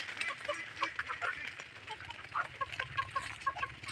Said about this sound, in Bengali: ফিড দিলাম, এখন মুরগিগুলো খাচ্ছে।